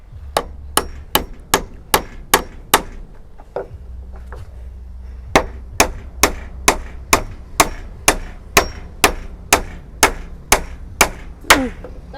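Steady, loud hammer strikes ring out one after another, a regular beat of blows with a brief pause partway through before resuming.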